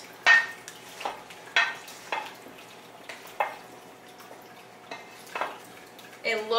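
Irregular clinks and scrapes of cutlery against a pot as food gets a final big stir, about a dozen distinct strokes, close and fairly quiet, with a brief faint voice near the end.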